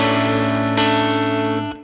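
Electric guitar played through a twin boost pedal with a new input resistor, volume turned down for a cleaner tone: a sustained chord ringing alone, one restrike partway through, then fading out.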